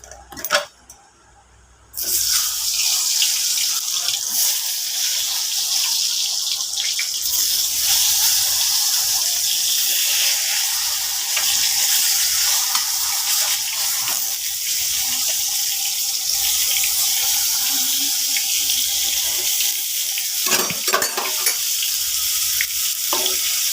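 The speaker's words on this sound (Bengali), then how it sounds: "তার জন্য বেগুন ভাজা বসিয়ে দিলাম" Brinjal slices frying in a pan give a loud, steady close-up sizzle that starts abruptly after a brief quiet moment and continues without pause, with occasional clatter of stirring.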